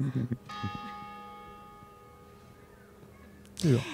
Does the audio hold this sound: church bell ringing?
yes